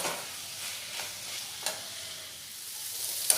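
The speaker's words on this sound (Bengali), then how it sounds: "আলুগুলো খুব ভালোভাবে লাল করে ভেজে নেব।" Potatoes fry in a pan with a steady, soft sizzle while being stirred, with occasional scraping strokes and no voices.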